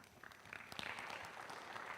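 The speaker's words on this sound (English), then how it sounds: "welcome him with a warm round of applause" Quiet applause from a conference audience at a governance symposium welcoming a speaker, a soft, distant patter of clapping that builds slightly and holds steady, with faint voices beneath.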